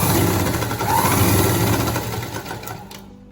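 A sewing machine stitches a seam in pant fabric, its loud rapid motor whir and needle chatter running steadily up close before slowing and stopping.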